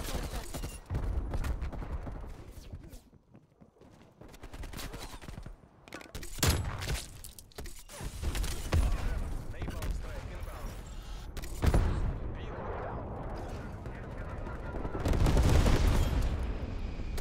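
Repeated explosive gunfire and booms from a War Machine grenade launcher in a first-person shooter video game, loud bursts layered with dense battle noise and a voice talking over the action.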